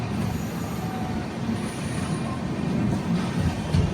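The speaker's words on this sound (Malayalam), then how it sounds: "നമ്മളെ ട്രെയിനെ ഇപ്പം പോകുന്നത് മംഗലാപുരം ജംഗ്ഷൻ സ്റ്റേഷനിലോട്ടാണ്" A train pulls into Mangalore Junction station, a steady low rumble of rolling carriages with faint wheel squeal rising now and then, continuous and fairly close, with no talking.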